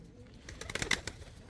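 Pigeons coo softly in a small flock, a few low rolling calls near the middle of a short quiet moment, faint and close by.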